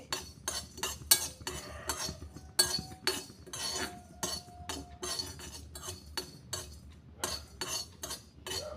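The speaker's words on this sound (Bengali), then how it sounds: "লোতে রেখে একটু নাড়িয়ে নিচ্ছি" Fennel seeds stirred in a pan over a low gas flame, with repeated metallic scrapes and clinks of a spatula against the pan in an uneven rhythm, close and moderately loud.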